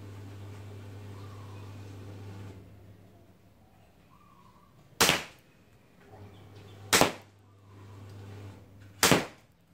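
Three sharp, loud shots spaced about two seconds apart from an Army R611 STI Staccato XL gas blowback airsoft pistol fired at a target, over a faint low hum and a quiet background.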